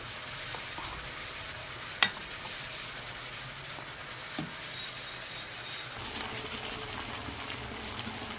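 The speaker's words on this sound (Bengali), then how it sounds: "ঘি দিয়ে দিয়েছি, কাঁচা লঙ্কা দিয়ে দিয়েছি। এবার একটু নাড়াচাড়া করে খুব সুন্দর গন্ধ বেরিয়েছে।" Green chillies fry in ghee in a pan with a steady sizzle, while a spoon stirs and gives occasional scrapes and a sharp clink, close and unaccompanied by speech.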